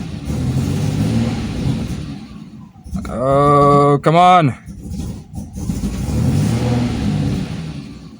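An Alfa Romeo 164 V6 Turbo with the Busso engine, which loses power under acceleration, rises briefly in a revving sweep and then sags away. Someone talks before and after the rev.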